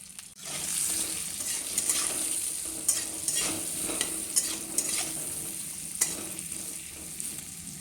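Eggplant frying in mustard oil with turmeric and salt, a continuous close sizzle broken by repeated spatula scrapes and taps against the pan, no talking.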